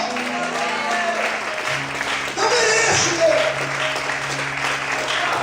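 Church congregation applauding during an evening worship service, continuous clapping heard under a preacher's amplified voice and a sustained musical tone.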